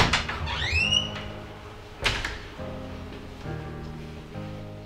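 A gym door inside an apartment building swings and latches, with a sharp squeaky sweep at the start and a second thump about two seconds later, followed by a low hum of the room.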